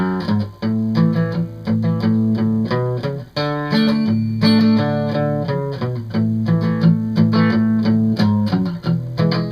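Acoustic guitar strumming a song in normal time, a loud, close, steady boom-chick rhythm of bass notes and chord strums with occasional accents, no voice.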